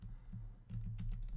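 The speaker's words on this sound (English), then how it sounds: "I'm pressing left and right on my keyboard." Computer keyboard keys pressed repeatedly while playing Sonic Heroes, a series of close, sharp clicks over a low background hum, spaced irregularly, with a brief pause before a quicker burst.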